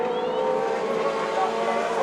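A dwarf race car at Antioch Speedway loops around in a corner, its engine a loud steady buzzing drone through the short stretch, with an announcer's voice faintly underneath.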